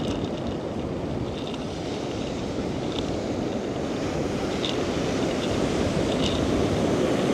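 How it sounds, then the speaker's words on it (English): Steady roar of ocean waves and chilly onshore wind buffeting the microphone, a continuous broadband wash with no voices. "it is chilly with that wind coming off that ocean"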